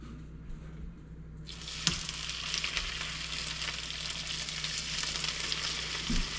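Fresh trout hits a hot pan at an outdoor mountain cooking station and bursts into a loud, steady sizzle that keeps crackling densely and close, following a brief quieter lead-in and a few faint clanks.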